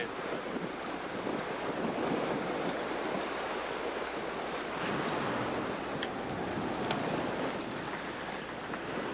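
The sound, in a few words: big ocean waves and wind while sailing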